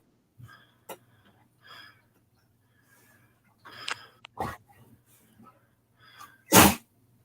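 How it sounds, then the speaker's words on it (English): A dog sneezes several times in short bursts, the last one loud and sharp, with snuffling and a low rumbling hum between them. "The dog sneezing."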